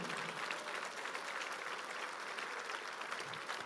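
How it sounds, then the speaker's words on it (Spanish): A church congregation applauds in praise during a sermon, a continuous, even roar of many hands clapping throughout. "dale un aplauso de gloria si le vas a aplaudir"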